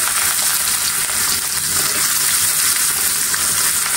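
Onions sizzle loudly and continuously in hot oil left from frying snakehead fish, a bright crackling hiss that holds steady throughout.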